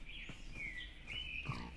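Pigs in Minecraft VR giving a few short nasal grunts and squeals, moderately close over a low ambient background.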